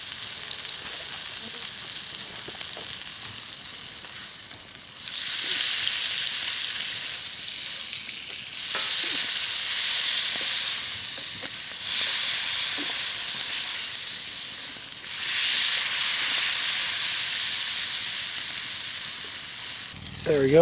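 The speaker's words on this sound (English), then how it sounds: "We'll get a half stick butter going on this little pan here." Half a stick of butter sizzles and fries steadily in a small pan over a hot campfire, a continuous crackling hiss that swells louder in several waves, with no talking.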